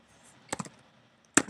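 Typing on a computer keyboard: a short cluster of quick, close key clicks, a pause, then one sharper keystroke near the end.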